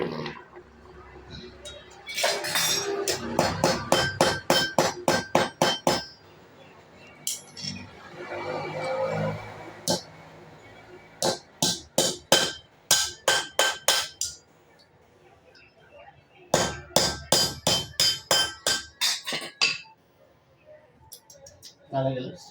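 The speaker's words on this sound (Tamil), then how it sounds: "கப்பு சாம்பிராணிக்கு சாம்பிராணி கரண்டி அடித்தேன்" Someone hammers a metal spoon used for cup sambrani incense, making rapid runs of sharp, ringing metallic blows in several bursts, with people talking in between.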